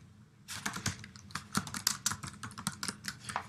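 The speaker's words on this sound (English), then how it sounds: "we'll type in some text here." Rapid keyboard typing on a device keyboard, a steady run of crisp, close key clicks with no talking.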